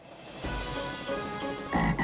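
A man mimics a frog with his voice, a low, rough, gurgling croak repeated a few times in quick succession, close and fairly loud indoors.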